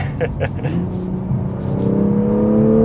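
A Toyota GR Supra 3.0 Premium with a manual gearbox accelerates hard, its engine note rising steadily in pitch and loudness after a few brief sounds at the start.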